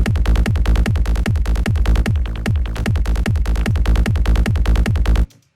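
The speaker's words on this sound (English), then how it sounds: "I think it's just a serum pluck." A layered psytrance bassline built with a stock Serum pluck preset plays as loud, rapid, evenly pulsing bass notes in a driving rhythm, with no voice, ending abruptly.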